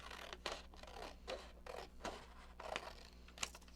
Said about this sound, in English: next up is cut. Any sort of scissors.